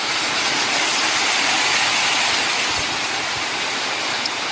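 Heavy rain pours down during a big storm, a dense, steady, loud hiss with no breaks, and nobody speaking.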